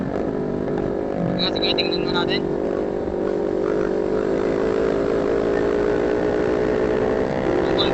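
Engines of a CFMOTO 400NK v4, a Sniper 155R and an R15 motorcycle on the Marilaque mountain road drone steadily and loudly throughout, the sound echoing, with someone talking over it.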